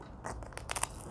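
Crunchy crackers from an Italian Armed Forces 24-hour field combat ration are bitten, giving a short burst of dry, brittle crunches up close with no talk.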